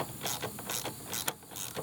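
A socket ratchet clicks in short bursts while adjusting the fork preload on a Honda Africa Twin motorcycle, with repeated close, crisp pawl ticks in an uneven rhythm and no talk.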